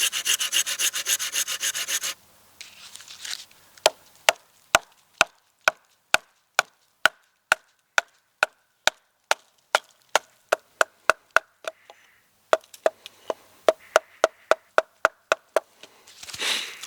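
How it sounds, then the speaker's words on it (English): A saw cuts a shallow stop cut about a third of the way into a piece of wood for a bushcraft joint, giving a steady run of sharp, evenly spaced strokes up close with no talking. "And we'll go down about 1/3 in and do a stop cut."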